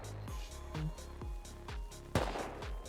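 Gunfire in the survival game Rust, a run of evenly spaced sharp shots about every half second, with a louder, closer crack near the end, all over a steady low background hum.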